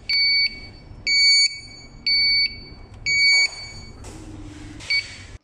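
A SKY3000 gas detector powering on gives four loud, evenly spaced electronic alarm beeps of about half a second each, then a short final chirp over a brief burst of noise.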